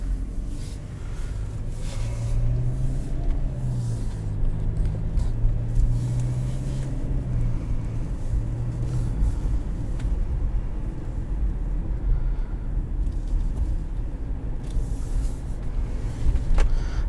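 A 2016 Lexus NX200t with a six-speed automatic pulls away in sport mode, its engine rising in pitch through a gear and then settling into a steady hum under constant road and wind noise inside the cabin, with no voices.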